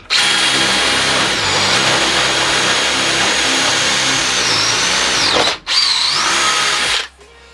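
A DeWalt cordless drill on its screw setting at power 2 whirs steadily at high speed for about five seconds, dips briefly, spins up again, then stops. No voices.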